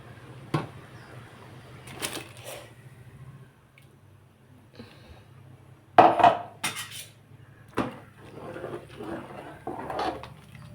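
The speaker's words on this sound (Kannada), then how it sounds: "ಇವಾಗ ಇದಕ್ಕೆ ಮಸಾಲೆನ ಹಾಕ್ತಾಯಿದ್ದೀನಿ." Masala spices going into a cooking pot of boiled legumes, with a spoon clinking and scraping against the pot in scattered sharp knocks between quieter stretches, close and moderately loud.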